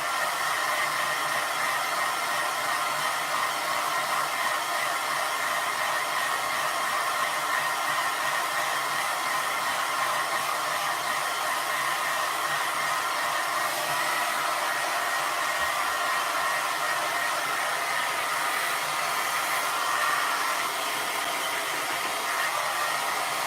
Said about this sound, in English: I'm gonna dry this layer with my hairdryer.